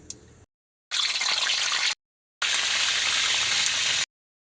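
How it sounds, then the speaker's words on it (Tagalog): Eggs and fish frying in hot cooking oil, a steady loud sizzle in two long bursts separated by silence, with no voices. "ready na tayo sa pagpiprito"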